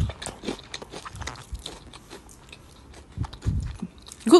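Close, crisp bites and chewing of a crunchy fried chicken Louisiana wrap, irregular crackling crunches and soft mouth sounds with a louder bite near the end.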